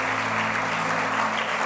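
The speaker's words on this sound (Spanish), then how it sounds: "Dale un aplauso al Señor." A church congregation applauds in a steady, dense burst of clapping. It fills the whole moment over a low sustained organ or keyboard tone.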